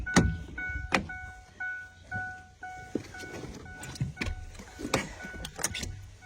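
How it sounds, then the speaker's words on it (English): An old truck moaning outdoors among trees, a rising and falling mechanical drone with a few sharp clunks and knocks, heard fairly close with no talk over it. "Y'all hear this old truck? He's moaning."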